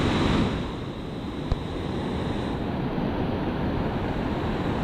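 Surf washing onto a beach as the tide comes in, a steady broad roar of breaking waves close by with wind noise on the microphone, continuous throughout with no talk.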